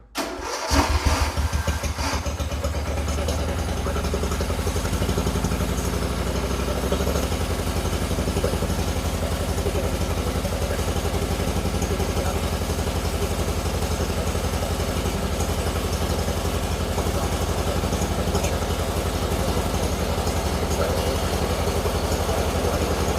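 A Mastercraft lawn tractor that sat parked outside for years cranks and fires up, then settles into a steady, loud, continuous idle close by, with no talking over it.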